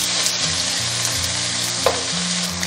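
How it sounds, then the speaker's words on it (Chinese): A yellow croaker fish head sears in hot oil in a preheated pan over medium heat, giving a steady, close, dense sizzle with a low hum beneath it. "油热过后加入鱼头一起煎。"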